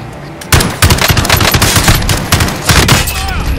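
Rapid automatic gunfire from Call of Duty: Modern Warfare, dense bursts of loud shots in quick succession with a few brief pauses, close and continuous over a noisy battle background.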